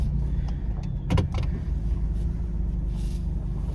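A car idles with a steady low engine rumble as it backs into a parking spot at a cabin in a Kentucky woodland retreat, with a few brief mechanical clicks and whirs near the start and no talking.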